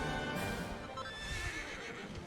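Horse neighing in the video game Dragon Quest 11, a clear whinny rising over game music with soft clip-clop hooves beneath, fairly quiet overall and no talking.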